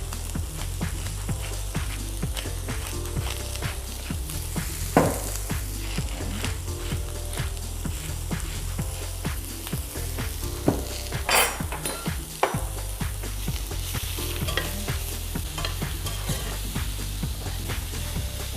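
Yellow onion cooking in a pan, a dense, continuous sizzle with frequent stirring clicks and utensil scrapes against the pan, steady and close throughout with no talking.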